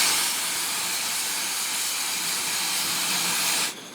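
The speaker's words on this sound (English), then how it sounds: "the sound of the steam piston is all around at the Antique Engine Museum" An antique working steam engine at the Antique Engine Museum in Vista, California, near San Diego, gives a loud, continuous hiss of escaping steam from its piston, nearby and steady, cutting off sharply just before the end.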